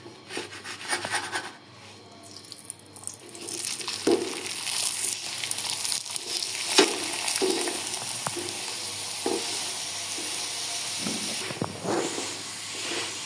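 A mooli paratha fries in oil on a pan with a continuous soft sizzle and hiss, broken by scraping and rubbing strokes and light taps as it is turned and pressed.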